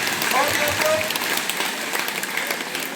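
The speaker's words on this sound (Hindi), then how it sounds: "ये 4 उंगली और ये अंगूठा, ये ऐसे पटापट, ये बजाओ ताली, बजाओ ताली, बजाओ ताली।" Schoolchildren at an inter college clapping hands together, a dense crowd of claps that is loud at first and then eases slightly, continuing for the whole few seconds.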